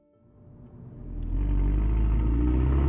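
Revised Mercedes A45 AMG hatchback with 380 horsepower accelerating on the road, engine noise swelling from quiet to a loud, steady deep roar within about a second and a half, heard alone.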